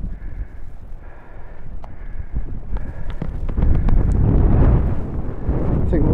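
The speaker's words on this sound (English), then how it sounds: "we'll just go over here so we can get out of this bloody wind" Strong wind buffeting a microphone outdoors by a mine shaft, heavy low rumbling gusts that swell louder in the second half, with faint talk early on.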